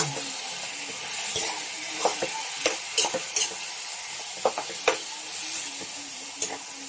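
Pork and tofu fry in a pan with a continuous close sizzle, punctuated by light scraping taps from a utensil as the pieces are stirred, with no talking.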